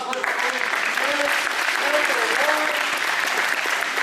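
Audience giving a steady round of applause, dense and sustained for several seconds, with voices talking faintly underneath.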